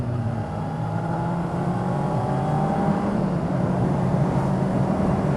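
A motorcycle cruises along a road, its engine droning steadily and fairly loudly with a continuous rumbling hum and a slight rise in pitch, with no voices.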